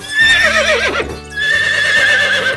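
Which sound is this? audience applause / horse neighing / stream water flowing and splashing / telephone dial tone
horse neighing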